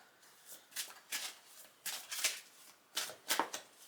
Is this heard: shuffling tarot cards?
yes